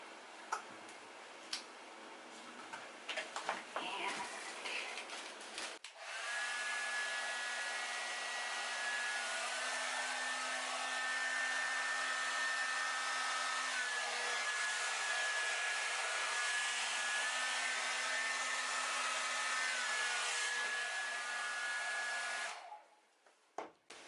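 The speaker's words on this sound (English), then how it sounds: "Move some things out of the way here so the blow dryer doesn't push them over." Blow dryer aimed at an acrylic pour painting switches on after a few seconds of ticking and handling noises, then runs as a loud, steady whir for about sixteen seconds before cutting off.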